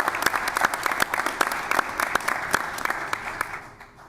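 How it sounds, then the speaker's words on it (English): Scattered applause from attendees at a Kenosha County Board meeting, a modest room's worth of clapping, steady for a few seconds and then tapering off toward the end. "A little round of applause for that."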